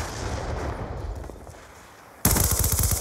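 Video game combat with a stun grenade and gunfire: a rumbling burst of shots fades into quieter noise, then a sudden loud blast and rattling fire resume near the end.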